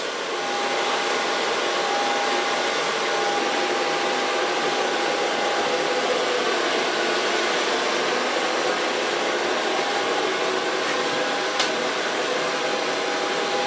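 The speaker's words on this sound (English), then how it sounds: "Take a small brush and start drying the hairs." A hair dryer blows hot air onto hair that a small brush is shaping, roaring loud and constant up close without a break, with no one talking.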